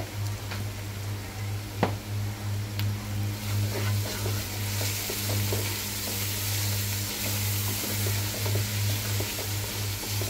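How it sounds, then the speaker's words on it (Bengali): Onions fry in a pan with salt for a duck bhuna, giving a continuous soft sizzle with scattered crackles and a few clinks, over a steady low hum from the stove. "পেঁয়াজগুলো এখন আমি ভালোভাবে ভেজে নেব।"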